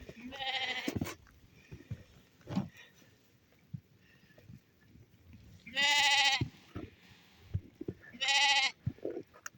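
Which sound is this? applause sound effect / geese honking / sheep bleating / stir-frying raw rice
sheep bleating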